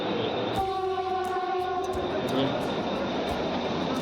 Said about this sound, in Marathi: माझ्या पाठी गाडी आली